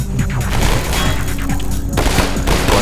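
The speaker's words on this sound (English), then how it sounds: "they're shooting at me from up there" Rapid gunfire from a firefight in the Half-Life 2 video game, dense overlapping shots and booms filling the whole stretch, loud and close, with a brief dip near the middle before the volley resumes.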